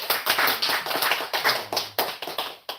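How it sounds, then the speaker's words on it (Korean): Church congregation clapping together during a Sunday worship service, a dense burst of many hands with a loosely rhythmic pulse, moderately loud and close, with no talking over it. "우리 서로 축복하면서 좀 한번 박수 한번 하실까요?"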